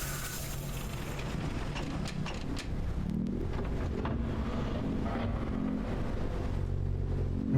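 A tram ride in the video game Haven Moon: a steady, close rumbling roll with a wind-like whoosh running unbroken throughout, with no voices.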